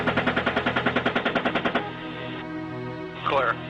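Helicopter gunfire during a recorded military engagement: a rapid, evenly spaced burst of about fifteen loud shots lasting under two seconds, followed by a lingering low rumble and a brief voice near the end.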